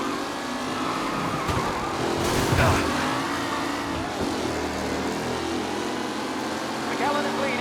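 Race cars roar along in Mafia Definitive Edition, with engines revving and surging past at close range under a commentator-style voice talking throughout.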